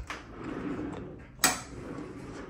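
A pocket door slides inside a condo bathroom wall, giving a soft rolling rumble with one sharp clack as it stops partway through, close and fairly quiet.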